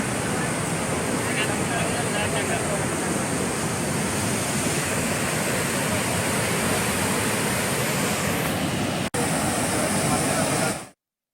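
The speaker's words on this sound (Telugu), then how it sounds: "వాగుల్లోకి వరద నీరు భారీగా వచ్చి చేరుతుంది." A rain-swollen stream in Jayashankar Bhupalpally district rushes with floodwater after heavy rain, a loud, dense, continuous roar of water that holds steady throughout and then cuts off abruptly.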